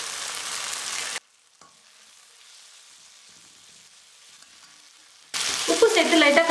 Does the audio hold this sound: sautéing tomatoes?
yes